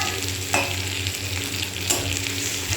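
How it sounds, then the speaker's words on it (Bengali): Slit green chillies land in frying onions, which crackle with a steady, close sizzle under occasional spoon scrapes and stirring, and no voices. "এবার কেটে রাখা কাঁচা লঙ্কাগুলো দিয়ে দেবো"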